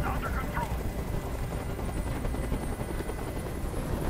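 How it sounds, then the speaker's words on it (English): Helicopter in the video game Detroit: Become Human, a loud, close, continuous rotor thrum with rapid low chopping pulses filling the scene, a brief higher sound near the start. "Tell that helicopter to get out of here."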